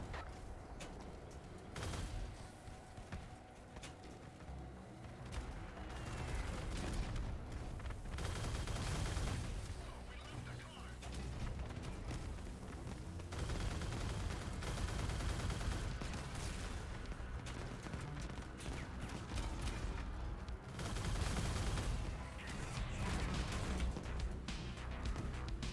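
Vehicle-mounted guns in the Crossout combat game fire repeatedly, with heavy booming shots and crashing impacts in irregular bursts over a continuous rumble of engines and battle noise, with no talk heard.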